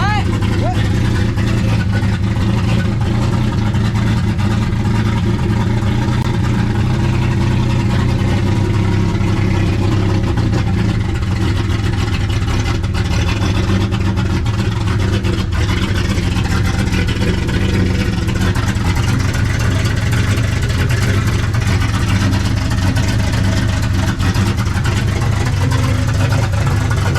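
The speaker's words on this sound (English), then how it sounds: "It sounds like maybe misfiring." A turbocharged project car engine runs loud and steady throughout, with a rough, uneven tone that may be misfiring; people talk over it.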